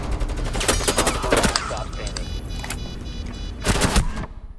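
Rapid automatic gunfire in the shooter game Rainbow Six Siege, loud close bursts of shots, a pause with scattered pops, then another sharp burst before cutting off.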